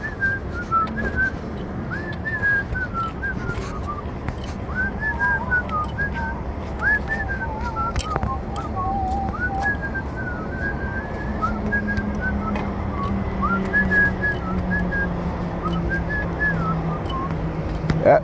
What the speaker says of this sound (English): he come whistling. Look, he whistling.